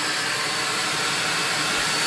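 Shop vac rigged up as a homemade DIY dust collector, running steadily with a loud, continuous broadband whoosh of suction and motor hiss from start to finish, close by with no talking.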